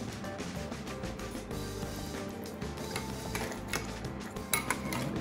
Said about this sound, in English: And then another little stir.